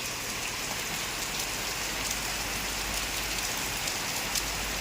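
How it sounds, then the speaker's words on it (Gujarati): Steady monsoon rain falls continuously in the hill station of Mahabaleshwar, a dense even hiss of drops with no pauses, heard up close. "વરસાદ થઈ ગયો છે ચાલુ મહાબળેશ્વરમાં"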